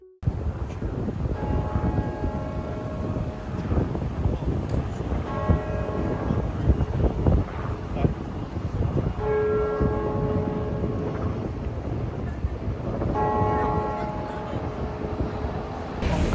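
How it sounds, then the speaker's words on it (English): St. Paul's Cathedral bells in London ringing out at noon, loud, repeated peals in several rounds over steady outdoor city noise, heard from nearby with no one talking. "we ended at St. Paul's Cathedral, which I did put a video in of the bells going off at 12, so noon"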